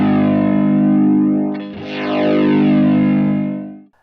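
Tape flanging on a sustained, distorted tone, with a sweeping comb of shifting overtones that briefly cancels the sound near the zero point before it swells back. The tone is loud and steady, then cuts off abruptly at the end.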